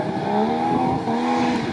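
An off-road rally car at the start line of the RFC Lithuania 2019 rally: a loud, close, sustained engine drone with a slight rise and dip in revs, heard briefly and without talking.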